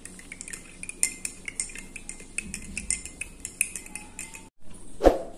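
A spoon stirs a 5-gram scoop of creatine monohydrate powder into a drink, tapping and clinking rhythmically against the container for several seconds before stopping, with one louder knock at the end.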